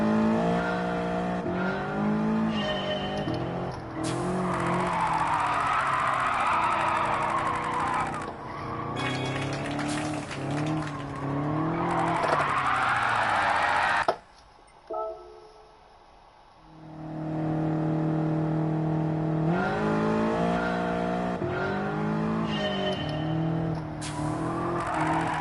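A race car in Gran Turismo 7 revs through climbing, falling gear sweeps, with a short squeal of tires and a brief drop to near quiet midway before the engine roars back up.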